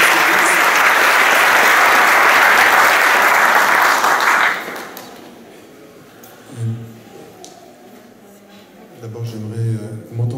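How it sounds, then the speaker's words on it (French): Loud, dense audience applause at a talk on blood and stem cell donation fills the first four seconds, then cuts off abruptly, leaving a quiet room where a voice begins speaking. "On peut l'applaudir."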